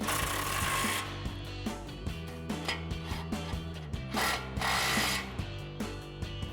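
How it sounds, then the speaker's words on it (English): A 22 mm socket and a 21 mm wrench tighten the front upper control arm bolts on a 2004–2020 Ford F-150. Close, rapid ratcheting clicks come in short repeated bursts, with some metallic knocks between them. "we'll come in and tighten these down again with our 21 mil wrench, 22 mil socket."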